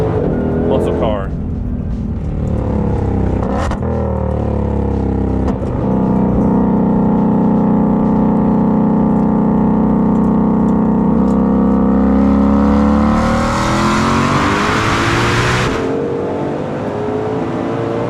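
A Hennessey Venom 1000 supercharged Mustang GT500 drives with a deep, loud engine drone that swells under acceleration and settles to a steady cruise, heard from inside the car over talking.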